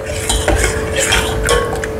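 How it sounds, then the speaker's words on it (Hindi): Spoon stirring yogurt and gram flour kadhi in a pot on the stove, a loud continuous scraping and swishing with soft clinks against the metal, no voices. "कंटिन्यूसली हिलाते रहेंगे जब तक एक बॉईल नहीं आ जाता"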